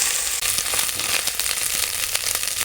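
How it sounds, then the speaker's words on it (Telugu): Ginger garlic paste frying in hot oil until it turns brownish, a steady close sizzle with a few light crackles and no talking. "ఇలా వేయించుకోవాలి బ్రౌనిష్గా వచ్చినట్టుగా"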